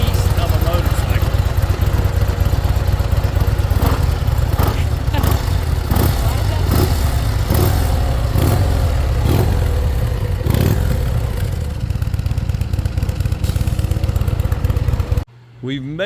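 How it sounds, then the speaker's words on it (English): A Harley-Davidson CVO Road Glide RR with a factory Akrapovic exhaust rumbles loudly up close, its deep engine note rising and falling through several revs before cutting out abruptly near the end. "This is a beast of a motorcycle."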